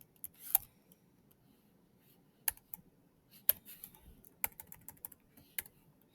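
Keys tapped on a computer keyboard while entering an expression into the Desmos graphing calculator: a handful of sparse, crisp clicks scattered over a quiet background, close by and with no talk.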